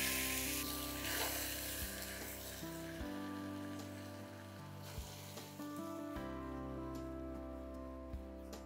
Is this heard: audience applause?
no